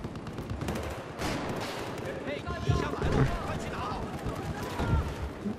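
Gunfire in the Battlefield 4 video game comes as repeated bursts of rapid automatic shots and sharper single cracks over a busy, rumbling battle background at moderate loudness.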